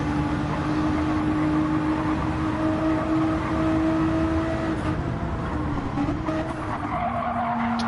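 A race car in a GT racing video game slides off the track, giving a sustained, loud tire skid over a droning engine tone that shifts near the end, with no talking.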